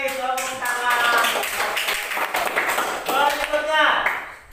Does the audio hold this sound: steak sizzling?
no